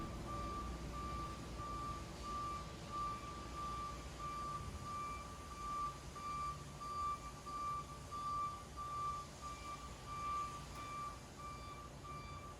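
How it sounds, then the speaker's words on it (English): A lift truck backing up in a warehouse after unloading a crated drum dumper, its reversing alarm beeping in a steady, evenly spaced series over a low engine hum, clear and fairly loud, with no voices. "This will help ensure that the equipment does not tip forward or fall off the forks while backing up the lift truck."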